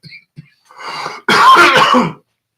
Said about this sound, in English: Excuse me, I have to cough for a little bit.